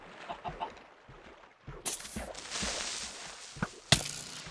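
Chicken clucking in the Minecraft video game, a few short game-sound clucks mixed with other game noise and rustling, moderately loud and close.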